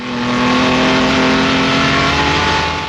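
A Jaguar D-Type race car on track, its engine loud and close, a steady sustained roar with a constant pitch throughout as it runs down to third gear.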